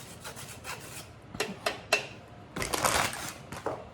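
Pecorino cheese rasped across a big-toothed microplane shaver in a kitchen, a series of short scraping strokes followed by a longer, louder grating burst, close and unaccompanied by speech.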